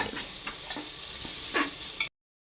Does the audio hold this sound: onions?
yes